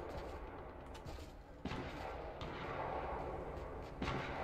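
Rapid bursts of Fortnite Battle Royale gunfire with heavy booms and a continuous rumbling background, sharp shots standing out around the middle and near the end.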